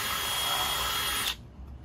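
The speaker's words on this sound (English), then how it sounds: "drill a hole. Trusty DeWalt drill." A DeWalt power drill bores a hole in a workpiece clamped in a vise, whirring loud and steady for over a second before cutting off abruptly into quiet.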